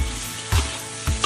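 Pan-fried goose pieces tipped into a hot wok of goose fat, ginger and shallots, giving two loud bursts of sizzling hiss about half a second apart over a steady background crackle.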